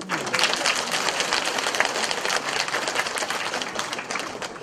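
A dense, steady wash of audience applause fills a village contest award ceremony in Chungbuk, sustained and even from start to finish with no voices rising above it.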